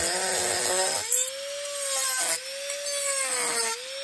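A power tool grinds steadily into carved wood while undercutting a wooden otter, a sustained close whine that dips in pitch as it bites into the workpiece, with no talking.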